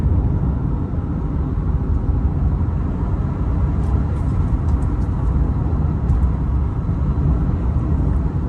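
Subaru car cruising in fifth gear at about 2200 RPM and 50 mph, a steady low engine drone mixed with road and wind noise, constant and close from inside the cabin with no talking.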